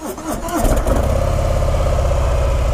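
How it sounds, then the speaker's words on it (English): A Harley-Davidson motorcycle with a Milwaukee engine and stock exhaust pipe fires up with a brief cranking churn and settles into a loud, close, lumpy idle. "let's do the sound test on this Milwaukee engine and see what she sounds like"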